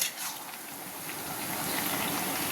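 Bottle gourd greens simmer in a covered pot, a soft, steady bubbling hiss that is close and continuous with no talking.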